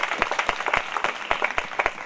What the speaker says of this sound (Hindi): प्रभु के लिए ताली बजा सकते हैं?